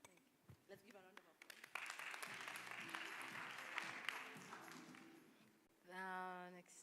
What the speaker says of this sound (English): Let's give a round of